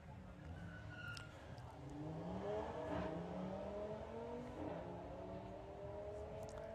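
A VW Sportsman drag race car driven by Jake Fronda, an Audi, accelerates hard down the strip at a Bug Jam event, its engine note rising steadily and staying loud throughout, with a crowd and commentator audible underneath.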